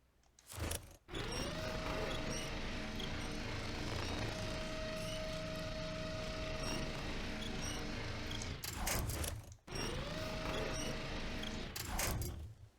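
A vehicle winch reeling in a SnowRunner off-road truck game, heard as a steady mechanical whine with a sustained tone over a dense engine rumble, stopping briefly and then restarting for a shorter pull.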